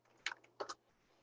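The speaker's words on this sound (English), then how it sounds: "I'm gonna type business coach" A few quick keystrokes on a computer keyboard, two small clusters of soft clicks close by and faint, with no talking.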